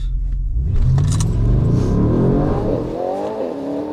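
A BMW M850 with 740 horsepower accelerates hard, its loud, close engine roar climbing in pitch, then dropping to low revs on the shift into third gear and rising again, with no talking over it.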